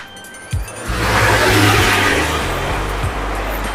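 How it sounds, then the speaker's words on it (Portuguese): Cars speed past on a busy city street in Pavuna, Rio de Janeiro, with a loud, close engine roar that swells suddenly and holds steady. "passam os carros aqui"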